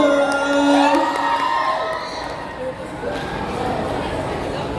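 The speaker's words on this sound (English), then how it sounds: "So once again, everyone, give them a round of applause." A convention crowd cheers, whoops and shouts for a group of Sailor Moon cosplayers, loud at first and then easing into a steady roar of excited voices with some high-pitched squeals.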